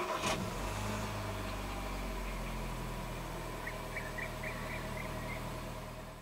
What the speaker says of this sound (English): Put your foot on the brake and press the start button located right down here.